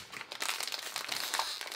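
A Wootbox subscription package holding Funko Pop and Pokémon collectibles is torn open up close, giving a dense burst of crinkly plastic and paper rustling that lasts under two seconds, with no talk over it.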